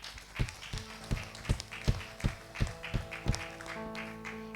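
Rhythmic, steady claps from a church congregation, roughly a dozen sharp beats at an even pace, fairly close and moderate in volume, with a few tonal notes sustaining beneath near the end.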